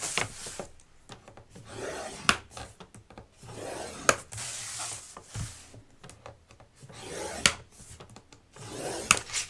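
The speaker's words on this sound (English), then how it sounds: "to make the box, we're going to score at 1 and at 2 on all 4 sides" Paper file folder scored with a tool along a ruler for a drawer box, repeated dry rubbing strokes broken by sharp taps, close and fairly quiet.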